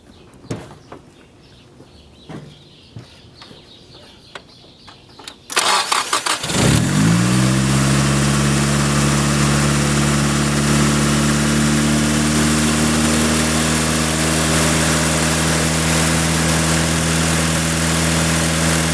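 A Nissan S15's SR20DET engine cranks briefly and catches after a quiet stretch of small clicks and shuffling, flaring up before settling into a steady, loud, close idle that continues to the end.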